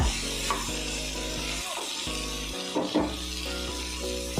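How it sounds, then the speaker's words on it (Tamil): Okra sautéing in a pan makes a soft, steady sizzle with a few brief scraping stirs, close by, under a persistent low hum and without talking. "இப்போ தான் வெண்டைக்காய் நல்லா வதங்க"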